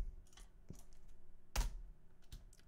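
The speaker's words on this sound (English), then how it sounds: "Type in your sudo password" Typing on a computer keyboard at a desk, a few soft, close key presses and one firmer tap, scattered irregularly over quiet background hum.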